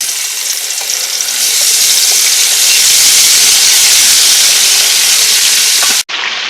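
Small white pomfret sizzles loudly in hot oil, a dense, steady hiss with faint crackles, cutting off abruptly near the end before resuming.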